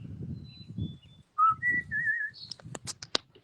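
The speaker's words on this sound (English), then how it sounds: "Listen to the birds and to the sounds of nature here." Songbirds calling outdoors in a quiet setting, several clear whistled notes and short chirps, the last few sharp and close, over faint low rumble in the first second.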